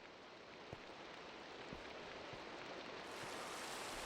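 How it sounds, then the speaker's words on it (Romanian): Steady rain pours down in Minecraft, a dense, even hiss of falling water with a few soft, faint thumps scattered through it, continuous and fairly quiet with no voices. "Mamă, dar plouă, cred că asta e prima oară care plouă"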